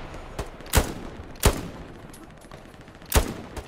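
Single gunshots in the World War II game Hell Let Loose fire in a loose, irregular rhythm, three loud sharp cracks with fainter shots between them, close and crisp with no talking.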